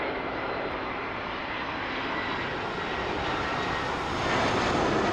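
Airliner taking off from a runway at Toronto airport, a loud steady roar of jet engines filling the whole clip and swelling slightly louder toward the end, with no voices.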